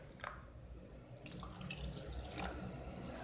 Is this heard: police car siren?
no